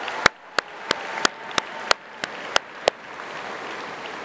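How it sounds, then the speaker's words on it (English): About nine sharp, evenly spaced hand claps ring out at an awards ceremony in a slow steady rhythm over a faint background hum, then stop. "give a big round of applause."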